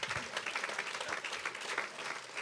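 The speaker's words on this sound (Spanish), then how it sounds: "Dale un aplauso a Javier." Brief burst of dense, even clapping from a church congregation, steady and fairly close throughout.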